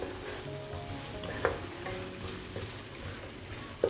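Egg manchurian mixture stirred in a pan, a steady soft sizzle with scraping spoon strokes and a few sharp clinks against the pan, close and without talk.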